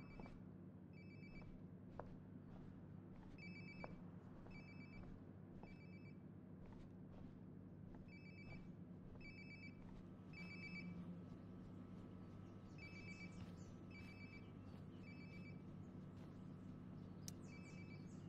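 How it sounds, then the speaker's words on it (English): A phone rings repeatedly nearby in the game Life is Strange: Before the Storm, a steady electronic trill in evenly spaced bursts over a low room hum, continuing throughout with no talking. "Sounds like my phone is definitely nearby."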